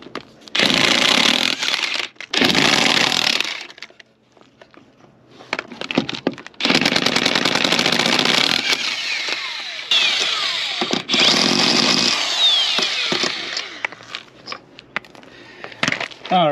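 A power tool buzzes in loud bursts while removing wheel lug nuts from a Jeep at a junkyard, several long runs of whirring separated by short pauses and clanks, close to the microphone.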